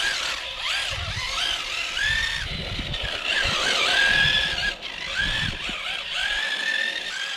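A Kyosho Kronos XTR radio-controlled car with a brushed motor on a 2S battery whines up and down in repeated high-pitched bursts as it accelerates and slows, with tire noise and bumps underneath.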